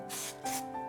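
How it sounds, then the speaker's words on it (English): Two short hissing bursts of hairspray from an aerosol can, close by, the second slightly louder, with no one speaking. "I'm just going to spray it"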